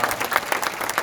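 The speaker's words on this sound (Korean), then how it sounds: "우리 큰 박수 부탁드립니다." Applause from the audience at a Korean church general assembly worship gathering, a brief burst of many hands clapping in a dense, steady wash filling the whole moment.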